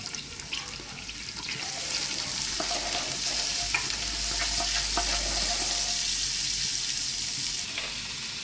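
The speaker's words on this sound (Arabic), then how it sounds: "في الطنجره ديال الضغط غادي ندير واحد البصله والثومه غادي نقليهم واحد شويه." Onion and garlic frying in a pressure cooker, a steady close hiss and sizzle that carries on without a break, with faint stirring scrapes over it.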